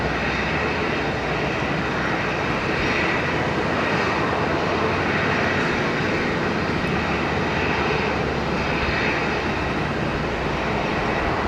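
A Singapore airliner lands on runway 01 left at Brisbane Airport, a loud, steady jet engine roar that swells slightly and holds throughout, heard from nearby.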